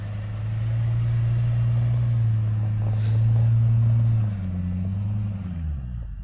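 A lifted Ford Excursion stretch limousine cruising along, with a steady low engine rumble that holds throughout and dips slightly toward the end, with no talk.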